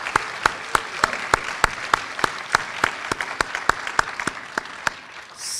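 An audience claps in a steady, even rhythm at a nursing graduate school ceremony, a round of applause with sharp, regular claps that stops abruptly near the end.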